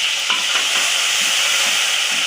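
Ground masala sautéing in a pan for a dried-fish dish, a bright steady sizzling hiss with faint soft stirring taps, close and alone.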